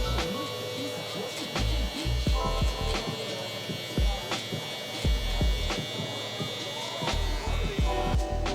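Hair clippers fitted with a 2 guard cutting curly hair in a taper, an electric buzz rising and dropping in short passes with faint snips, under a person talking.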